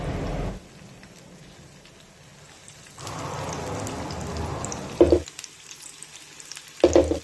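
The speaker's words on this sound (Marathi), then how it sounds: "आता उलटपुलट करत दोन्ही बाजूने छान सोनेरी रंगावर या भजी आपण तळून घेऊया" Ridge gourd bhaji fritters frying in hot oil over a medium flame, a soft steady sizzle that swells twice and is punctuated by a couple of sharp clinks, heard close with no talk.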